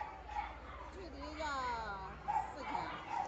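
Small dogs and puppies at a dog market give short yips and soft whimpering barks, mixed with nearby people talking over the animals.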